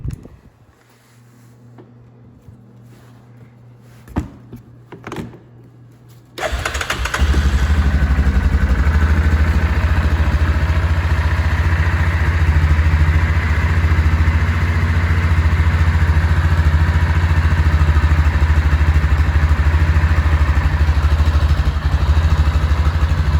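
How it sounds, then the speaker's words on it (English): Yamaha Grizzly 450 ATV running on new gas, after a few brief clatters, fires at about six seconds and then holds a loud, steady idle close by, with no talk. "This will be the first time trying to fire it with new gas."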